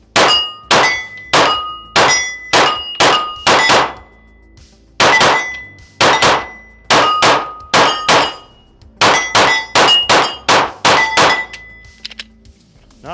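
Bullets striking a steel target about 45 yards away, fired from a DC Precision DC9R pistol in quick doubles: a long run of sharp, ringing metallic clangs in pairs and short bursts, loud and clear with no talking.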